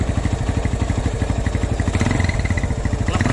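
A 1997 Honda GL Pro Neotech motorcycle with its original exhaust runs steadily nearby, its engine giving a rhythmic, loud thumping putter with a slight clatter and no talk over it.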